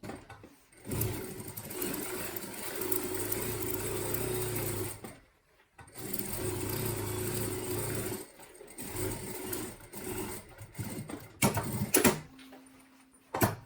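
A sewing machine stitches a backpack lining in two long, steady runs, with a brief pause between them and then a few shorter bursts. The motor whirs loudly and close, and there is no talking.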